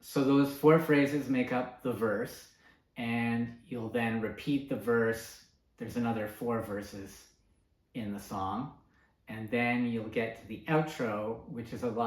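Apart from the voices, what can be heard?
No everyday noise stands out behind the speech.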